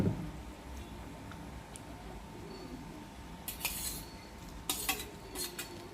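Quiet scraping of a spoon in a pan of gravy with fried paneer, onion and capsicum, followed by a few louder clinks and scrapes of mixing toward the end.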